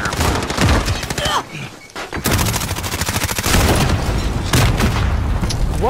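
Rocket launcher fire and explosions in Call of Duty Modern Warfare, heard as loud, dense booms and rolling gunfire filling the whole moment, with a brief dip before the blasts resume, close and overpowering.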